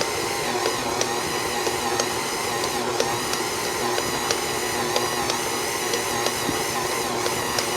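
Electric mixer whirring steadily through cookie dough, a continuous close buzzing motor with faint periodic ticks and clunks as the beaters turn, no talk.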